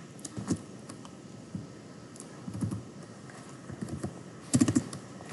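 Typing code on a computer keyboard, soft scattered clicks with a few short bursts of quick keystrokes, fairly close and quiet, with pauses between.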